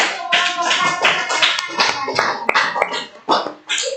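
Classroom clapping in an Indonesian fifth-grade lesson, a close, loud run of separate sharp hand claps in an uneven rhythm, with a few brief voices between them.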